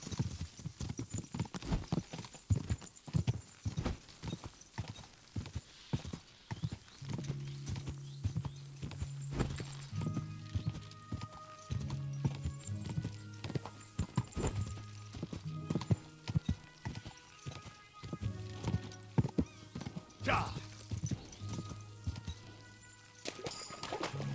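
Rhythmic clip-clop of galloping horse hooves with occasional whinnies, steady and close, over a backdrop of game music tones in Kingdom Come: Deliverance II.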